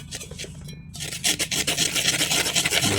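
Wheat flour cake batter being stirred by hand in a bowl, giving close, continuous scraping and rubbing sounds with a brief pause near the start, no talking.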